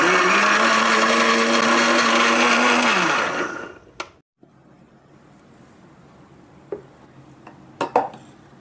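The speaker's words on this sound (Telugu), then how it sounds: "ఇప్పుడు ఈ మొత్తాన్ని ఒకే 1 నిమిషం అండి, ఎక్కువసేపు వద్దు, 1 నిమిషం పాటు గ్రైండ్ చేసుకుందాం." A mixer grinder grinding instant set dosa batter, a loud steady whirring drone that winds down and stops after about three seconds, followed by quiet clinks and taps of the jar and lid.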